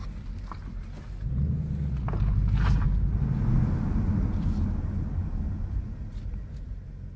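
A Ford Mustang engine is held at high RPM for launch control, heard from inside the car. A low, steady rumble swells after about a second and holds.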